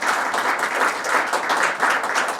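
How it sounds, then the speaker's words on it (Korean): A church pastors' seminar audience applauds an education director who has stood up, a dense, steady wash of many hands clapping at moderate loudness for a few seconds with no talking. "박수 한번 쳐주시면 고맙겠습니다"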